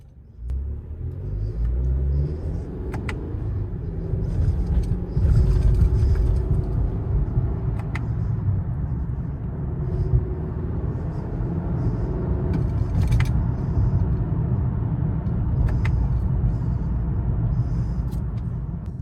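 A Toyota Camry drives with a steady, loud engine rumble throughout, the revs swelling and settling as it upshifts through the gears using paddle shifters, with road and cabin noise underneath and no talking.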